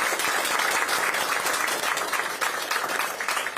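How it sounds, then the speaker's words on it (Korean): Dense audience applause at a Democratic Party field meeting for a by-election in Yeonggwang and Gokseong, sustained, loud and even throughout without speech. "큰 박수 좀 부탁을 드립니다"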